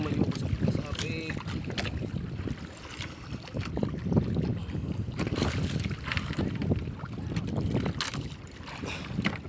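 Boats on open water, with a steady rumble, wind buffeting the microphone and water sloshing, loud and continuous, with voices faintly underneath.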